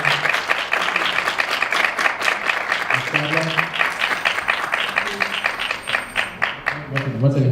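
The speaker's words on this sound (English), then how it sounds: "please, everybody hold your applause until the speaker's finished" An audience at a community board meeting claps steadily for several seconds, a dense patter of many hands, while voices talk underneath and grow more noticeable toward the end.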